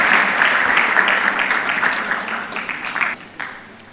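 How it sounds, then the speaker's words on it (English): Audience applause at a ceremony as a speaker walks to the stage: dense, close clapping that holds steady and then thins and fades over four seconds. "Give her a round of applause as she comes to the stage."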